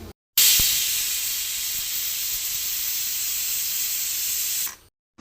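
A pressure cooker with mango dal inside vents steam in a steady, loud, continuous hiss that begins abruptly and cuts off cleanly after about four seconds, with no voices.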